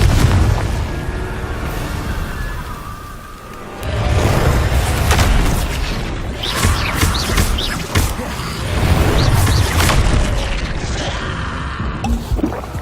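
Repeated Confringo fire spell blasts from Hogwarts Legacy, loud booming explosions bursting one after another across a dense, busy battle din with crashes and pops.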